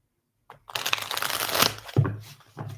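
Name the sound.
shuffling a tarot card deck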